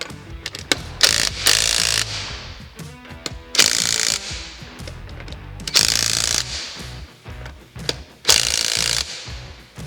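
Four loud bursts of ratcheting clicks from a hand ratchet tightening the wheel lug nuts on a 2010 Jeep Patriot during a DIY brake job, separated by short pauses with light handling noise and no talk.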